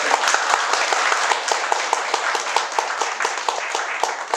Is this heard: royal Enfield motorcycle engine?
no